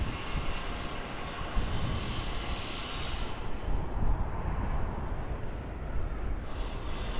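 A Boeing 737 jet airliner at Sydney Airport, a loud sustained engine roar with deep low rumble and hissing upper noise that ebbs slightly, heard alone without speech.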